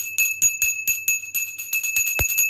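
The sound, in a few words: bells ringing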